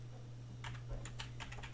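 Typing on a computer keyboard, a short burst of quick, faint key clicks in an irregular rhythm over a low steady hum.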